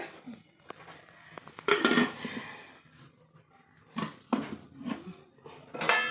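Dishes and a cover clink while a pot of potato and bitter gourd chorchori is covered in a home kitchen, with several close, sharp metallic clatters and knocks separated by quieter gaps and no talking.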